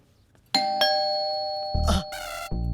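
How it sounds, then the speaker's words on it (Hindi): A two-tone doorbell rings out clearly in a Hindi family sitcom home, followed by a short electronic chime melody; loud and close, with no talk over it. "अरे जब भी ये घंटी बजती है"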